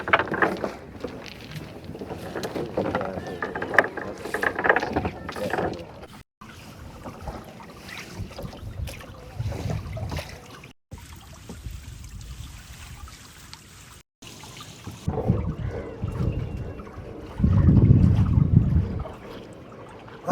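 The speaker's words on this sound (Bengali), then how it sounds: "আমাদের নৌকা ছেড়ে দিয়েছে" A fishing boat setting off on a deep river, with an ongoing low rumble and splashing water mixed with wind buffeting the microphone, then a louder surge of engine and water near the end; no one speaks.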